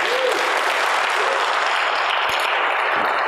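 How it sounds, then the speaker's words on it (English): Loud, continuous audience applause at a talk on kindness, a dense wash of clapping from a crowd lasting the whole stretch, with faint voices beneath it. "let's give the Earls a huge round of applause"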